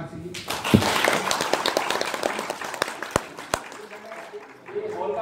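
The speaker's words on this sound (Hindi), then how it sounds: "तो एक बार ताली होना चाहिए।" An audience in a meeting hall at a direct selling event claps in a dense burst of applause for several seconds, fading near the end as a voice talks over it.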